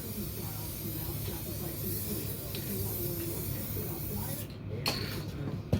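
Aerosol lube sprayed onto a motorcycle rim during a Tubliss tire insert install, a steady hiss running several seconds under a low background hum, ending with a brief clatter.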